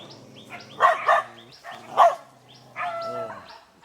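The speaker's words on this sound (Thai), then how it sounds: "ไม่เห่าลูก" Dogs kept in a large group of over 200 at an elderly couple's home in Samut Songkhram, Thailand, bark sharply and close by: several loud barks in quick succession, a pause, then more barking.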